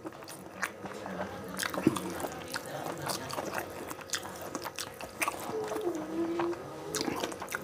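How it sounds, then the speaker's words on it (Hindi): Someone eating the last bite of butter mushroom masala, soft moist chewing and biting sounds up close and fairly quiet, irregular across the stretch with a few sharper clicks. "ये रही आखिरी बाइट।"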